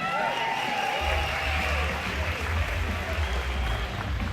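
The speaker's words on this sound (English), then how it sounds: "Give her a round of applause." An audience at an art event claps steadily for a few seconds, a dense wash of hands with a low rumble of crowd underneath, no distinct voices.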